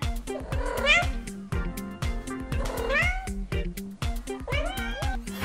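A cat meows repeatedly in short, rising and falling cries, several close, clear calls in quick succession with a brief caterwauling quality, no talking.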